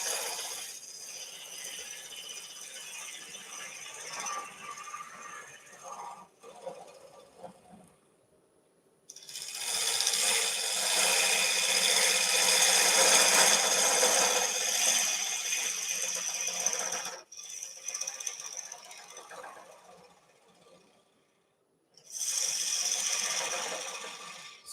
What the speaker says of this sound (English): So at the moment we're hollowing, or we're cutting side grain.